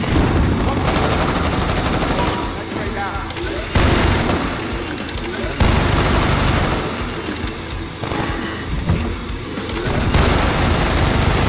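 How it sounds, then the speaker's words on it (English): Steady rapid gunfire and booming shots from a shooting video game, loud and dense throughout with brief pauses, mixed with game noise and some voice chatter underneath. "I'm shooting anything I see."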